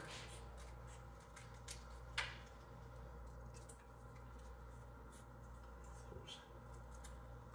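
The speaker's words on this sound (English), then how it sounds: "I'm gonna cut it down narrower." Scissors cutting a strip of 180 grit sandpaper narrower, quiet crisp snips and rustles, close and faint over a low steady hum.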